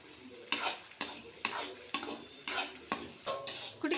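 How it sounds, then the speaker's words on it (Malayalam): A spoon stirs chicken curry in a pot, giving about eight evenly spaced scraping strokes roughly every half second, close and moderately quiet. "ഇനി നമ്മളത് കുറച്ചും കൂടെ മിക്സ് ചെയ്യണം."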